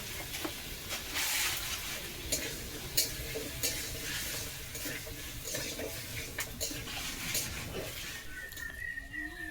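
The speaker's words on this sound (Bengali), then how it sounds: "আর এদিকে দেখো টমেটোর চাটনি হচ্ছে, এইটা আরেকটা কড়াইতে দিয়েছি।" Tomato chutney frying in a kadai, a steady faint sizzle with occasional scraping stirs throughout, heard alone without talk.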